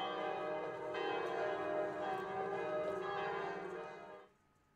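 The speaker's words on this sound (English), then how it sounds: "Then another church bell sound." A church bell rings at a wedding with a sustained, resonant tone and shimmering overtones, somewhat distant, fading out near the end.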